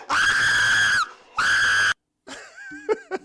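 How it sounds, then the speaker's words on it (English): A person screams loudly in two long sustained bursts at close range, followed by breathy, wavering vocal sounds and sharp cries. "Stop screaming!"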